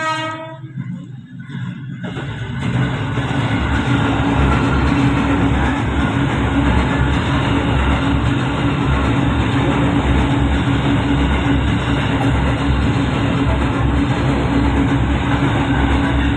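A loud train rolls past on the rails beside a prayer room in Bukit Duri, Tebet, South Jakarta, its horn sounding at the start before a sustained, close rumble and clatter of wagons fills the scene.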